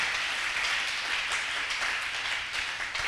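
Steady, fairly close applause from a church congregation fills a few seconds, many hands clapping at once without pause.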